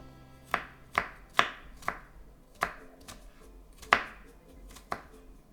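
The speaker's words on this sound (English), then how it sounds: "Now, if you do not like to bite into chunks of garlic, of course, mince it like what I'm doing here." Garlic minced with a knife on a board: about nine sharp, distinct chops at an uneven, unhurried pace, close and crisp in a quiet kitchen with no talking.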